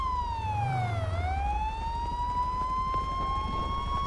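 Police car siren in the GTA V video game, a loud continuous wail that dips and swells smoothly, with a low engine rumble underneath and no talk.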